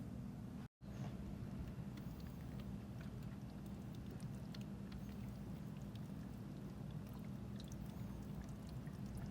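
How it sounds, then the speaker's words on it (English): Water pours and splashes steadily over a car battery area for rinsing, after a brief dropout, a continuous close hiss with no talking. "and then we'll rinse it off with some water."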